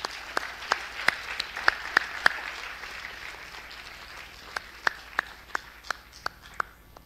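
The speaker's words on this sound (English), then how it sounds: "I'd love a round of applause for those guys" Audience applause at the closing of the FOSSASIA Open Tech Summit 2019, thinning to scattered individual claps with sharp, evenly spaced hand claps standing out over a soft crowd wash.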